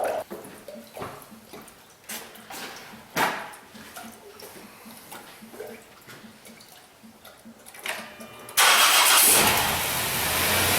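A replacement 3.8 engine in a Dodge Grand Caravan is cranked over with several stuttering pulses, then catches and settles into a loud, steady rushing roar, heard close with no talk.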